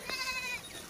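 A goat gives a short, faint bleat on a farm, set against a steady low background hum.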